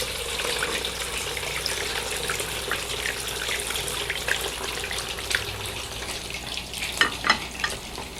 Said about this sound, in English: Let's pop our chunks of paneer cheese into our clarified butter.